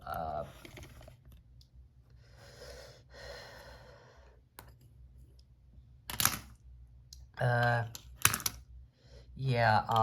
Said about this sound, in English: just lay the other keys down